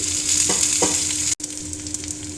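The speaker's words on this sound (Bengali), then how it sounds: "আলুও হালকা করে ভেজে নেব।" Potato pieces fry in a little oil with salt, making a loud, close sizzle. Spatula scrapes stir them early on, and the sound briefly cuts out before the frying hiss resumes alone.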